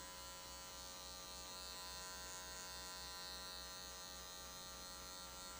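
Electric hair clipper fitted with a number 1 guard cuts hair during a top-to-bottom fade, giving a steady, close, loud motor buzz that runs unbroken and alone throughout.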